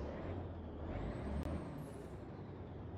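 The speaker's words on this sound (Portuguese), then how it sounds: "Eu deixei o som de ônibus traseiro, né? Então esse aqui é um ônibus traseiro." Air brake of a rear-engine bus in a driving simulator game: a sharp pneumatic hiss bursts out over a steady low engine rumble, with a brief squeal, close and fairly loud.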